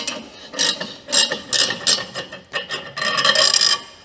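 Close, busy ratchet clicking in repeated bursts as a wrench unbolts the engine support bridge on a BMW M2 Competition F87, with metallic rasping between the strokes.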